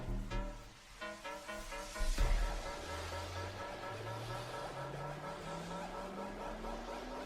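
A vehicle drives out of a bunker in GTA 5 Online: an engine revs and climbs steadily in pitch after a sharp thump, holding a close, continuous drone with faint rhythmic mechanical clatter at the start.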